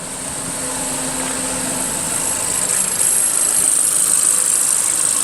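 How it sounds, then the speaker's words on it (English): Engine of a 2021 Ford Transit Connect running steadily and building slightly in level, heard after an intake cleaning chemical treatment for a loss of fuel mileage, with a mild engine drone and a high-pitched whine above it. "Give a couple of quick revs just to clear out any chemical that's remaining in that intake"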